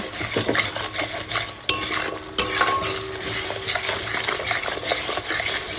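A Bengali spice masala being sautéed in a pan for a cauliflower and katla fish curry: a spoon scrapes and clatters against the metal in quick strokes over a continuous close sizzle, with two sharper clanks.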